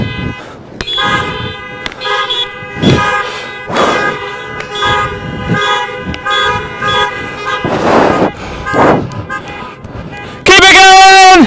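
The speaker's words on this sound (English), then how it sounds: "One honk, one quick one." Loud car horns honk in a repeated rhythmic pattern, long and short blasts, with voices underneath, ending in a sustained blare, during a Chanukah celebration.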